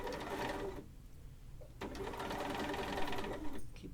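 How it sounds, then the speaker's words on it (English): A sewing machine chain-pieces quilt fabric in quick rattling bursts of stitching, with a short pause between pieces. The mechanical clatter is quiet and close, and it starts again after each gap. "We are chain piecing."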